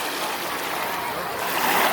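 Steady rushing surf washes continuously, a broad loud roar of waves close by with no voices.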